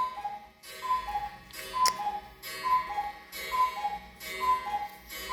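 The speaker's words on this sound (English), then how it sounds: "can hear my cuckoo clock." A cuckoo clock ticks indoors, a regular soft tick-tock pattern repeating steadily and fairly quiet, with a brief clink partway through.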